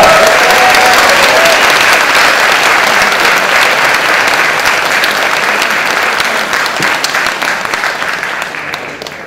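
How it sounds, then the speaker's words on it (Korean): A crowd of hometown supporters and elementary school classmates applauds at a political gathering, a loud and continuous wash of clapping that slowly tapers off toward the end. "여러분 뜨거운 박수 다시 한번 부탁드리겠습니다"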